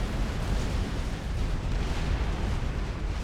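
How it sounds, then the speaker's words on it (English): A nuclear explosion in the Supreme Commander strategy game roars as a dense, sustained rumbling blast, loud and broad with deep low end, continuing steadily without pause and without voices. "Nuclear explosion will end the game"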